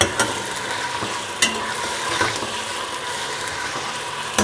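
Ginger paste being fried in a pan for a palak chicken dish: continuous sizzle with periodic scraping strokes of a spoon, close and moderately loud, no talk.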